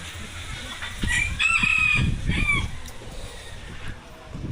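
A rooster crows and chickens cluck close by, with a few short calls rising over steady outdoor background noise.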